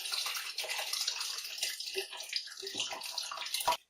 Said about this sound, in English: Make sure you pour it gently